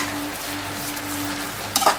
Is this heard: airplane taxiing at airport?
no